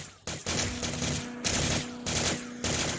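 Rapid turret gunfire from the air support skill in the Roblox game Sorcerer Fighting Simulator, dense bursts of game shots in several loud waves with short gaps between.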